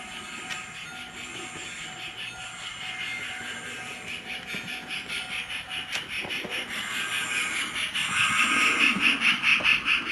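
A repaired Spirit of Christmas starter set 0-6-0 model locomotive runs along the track with a faint, steady hum and rhythmic clicking that grows louder and more pronounced toward the end, with no talking.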